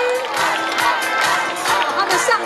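Crowd noise at an outdoor dance festival after an indigenous and Taike fusion dance, with continuous cheering and clapping from the audience, loud and sustained throughout.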